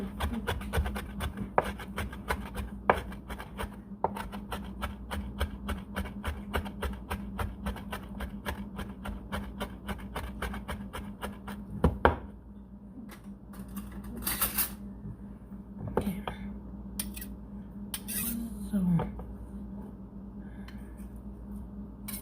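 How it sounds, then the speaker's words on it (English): A knife chops peppers and tomatoes on a cutting board for a sausage dish, giving a long run of quick, close, evenly spaced taps with a few louder knocks. Steady kitchen background sits beneath the taps. "So I'm just gonna chop."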